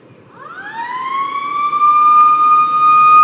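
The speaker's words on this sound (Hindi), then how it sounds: "siren बाजीगला duty Gote siren बाजीगला" An emergency siren winds up from low to a loud, sustained high wail nearby, steady and growing louder over the rumble of traffic, with no voices.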